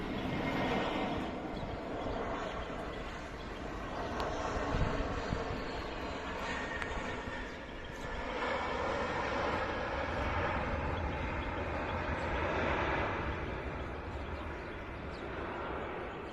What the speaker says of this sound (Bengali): সাদা লাল রঙের এই বিমানটি এখন ঢাকার হজরত শাহজালাল আন্তর্জাতিক বিমানবন্দরের রানওয়ে স্পর্শ করার জন্য এগিয়ে আসছে